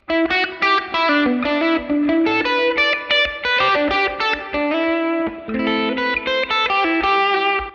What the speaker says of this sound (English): I have clean with like ambient delay and reverb.